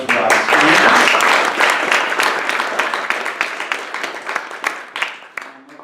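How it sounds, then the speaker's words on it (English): Audience clapping at a stock pitch challenge, loud at first and then thinning into scattered claps that fade out over several seconds. "I say one more round of applause"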